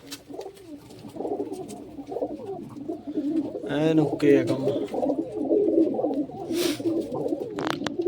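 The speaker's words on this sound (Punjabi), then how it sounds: "ਕਰੋ ਚੈੱਕ ਕਬੂਤਰ ਕਬੂਤਰ ਬੈਠੇ ਆਪਣੇ ਪੂਰੇ ਫਿੱਟ" Pigeons coo in low, throaty bursts near and far, overlapping in a continuous murmur with a few flutters and clicks, while someone talks briefly over them.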